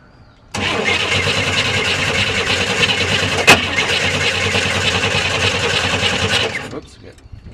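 A 1966 Corvair engine with intermittent stalling and rough running cranks loudly and steadily for about six seconds with one sharp click partway through, then stops.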